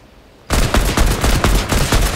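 SMG fire in the Fortnite video game starts suddenly and rattles in a fast, loud burst of rapid shots that runs to the end without pause.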